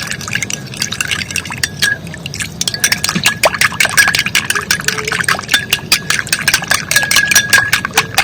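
Shampoo being stirred into water for a homemade fenugreek and tea hair remedy, giving repeated soft liquid swishes and light clinks against a steady low background hum.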